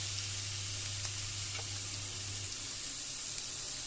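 Finely chopped ginger and carrot frying in a hot pan for ragi upma, giving a steady, close hiss of sizzling oil with no one speaking.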